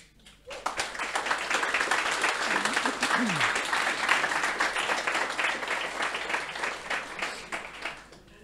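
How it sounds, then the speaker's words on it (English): Audience applause at a company all-hands meeting, a broad steady wash of clapping from a sizable crowd that starts abruptly and carries on for several seconds, with some voices mixed in. "I think that deserves a round of applause"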